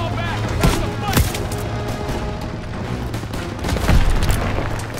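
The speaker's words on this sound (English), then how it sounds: "I shoot two guys, and then they immediately start getting shots on me." Gunfire rattles through a Call of Duty WWII battle at Hill 493: sharp shots and heavy booms crack out repeatedly over a dense, continuous din of combat, loud and close throughout.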